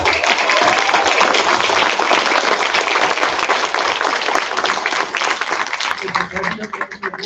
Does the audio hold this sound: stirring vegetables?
no